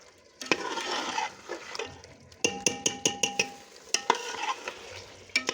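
Turnips and meat frying in ghee for shaljam gosht, with a gentle sizzle beneath a spoon stirring and scraping the pot in a run of sharp metallic clinks, close and moderately loud.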